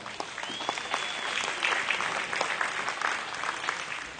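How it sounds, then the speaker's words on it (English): A crowd at a Holstein cattle fall show claps for three young cows, sustained loud applause with sharp individual claps standing out, continuing for several seconds. "Let's give them a good round of applause."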